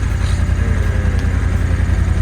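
A Honda NT1100 DCT motorcycle idles at a dealership, a loud, steady low rumble with an even pulse that holds through the whole stretch without voices.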